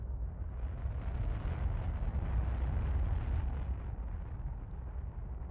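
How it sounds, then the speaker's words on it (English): Starship cannon fire and explosions in combat in the space game The Last Starship, a dense continuous roar of booms and rumbling blasts, loud and sustained throughout with no talk. "Oh, incoming fire."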